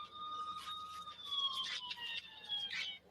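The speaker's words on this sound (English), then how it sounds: "his ringtone is a police siren" A wailing electronic police-siren ringtone rises and falls in steady sweeps, fairly loud and close, with no talking over it.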